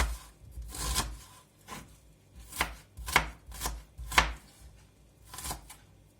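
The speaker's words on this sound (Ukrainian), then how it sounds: "Цибулю потрібно порізати нам кубиком." Knife chopping onion on a board, a steady series of crisp cuts with irregular rhythm, close up and clear, no talking.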